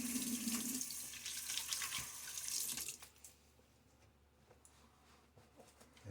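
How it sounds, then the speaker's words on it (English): Tap water runs steadily into a sink while shaving with a Gillette Nacet blade in a Blackland Osprey razor, a close, full splash for about three seconds before cutting off to quiet room tone. "A little quick water."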